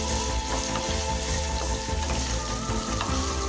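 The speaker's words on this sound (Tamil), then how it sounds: "சின்ன வெங்காயம் நல்லா கலர் மாற வரைக்கும் வதக்கிக்கோங்க" Small onions sauté in a pan for vatha kulambu, giving a close, steady crackling sizzle with faint stirring taps underneath.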